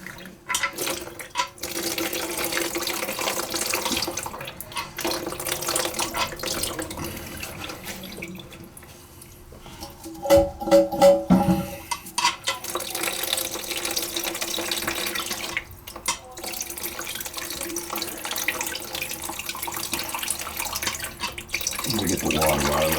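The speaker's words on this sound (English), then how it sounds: "It's gonna be water coming out here." Water trickles and runs steadily from a leaking toilet supply connection fitted with non-brass parts, a continuous close faucet-like flow with a brief louder burst midway and faint talk at moments.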